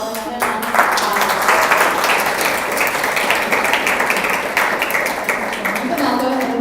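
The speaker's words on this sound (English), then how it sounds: "Can we give them all another round of applause?" Audience applause for a panel at a live-streamed community event, a full crowd clapping steadily for several seconds, with some voices faintly underneath.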